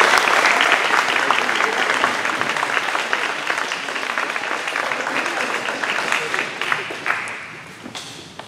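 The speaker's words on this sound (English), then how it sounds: "Let's have a little applause while they come on." A commencement crowd at a Christian academy claps as a couple walks to the platform, full, dense applause that holds steady before tapering off near the end.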